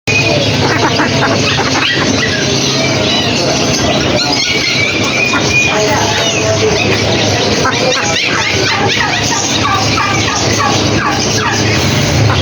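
Loud, busy bird market with fowl gobbling and clucking amid barking dogs and a dense crowd of talking voices, all close and continuous.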